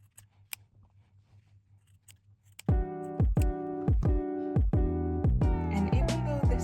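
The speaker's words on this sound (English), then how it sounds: "now I'm going to go ahead and cut the excess yarn" Scissors snip through excess yarn on a crocheted drawstring purse. After a quiet start come a series of crisp, close metallic cuts in a steady rhythm, about seven in all.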